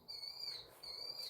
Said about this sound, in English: The bird's back, crying its eyes out.